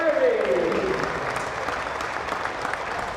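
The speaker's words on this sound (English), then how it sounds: "makes his way onto the Boundary Park pitch to a round of applause" A rugby league crowd applauds as a player walks onto the pitch through a guard of honour at Boundary Park, Oldham v Barrow; steady, moderately distant clapping continues throughout with a brief commentator-like tone near the start.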